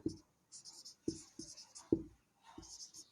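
A pen writing on paper during a Bengali maths lesson on profit, giving sharp scratchy strokes in short bursts with pauses between them, close and fairly quiet, with faint whispered speech in between.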